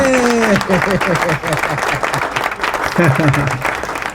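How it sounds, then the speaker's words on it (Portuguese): Clapping for a guest on a Brazilian running talk show, a short burst of applause close by with voices talking and cheering over it throughout. "Palmas pra todo mundo"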